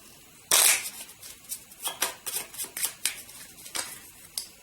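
Cards for the board game Mage Knight being shuffled: a loud riffle burst at the start, then a run of crisp, close flicks and snaps as the deck is handled, with no talking.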